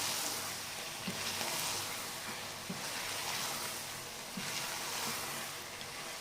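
Chicken and green beans fry in oil with a dense, steady hiss, loud and close, with a few soft stirring knocks spaced through it.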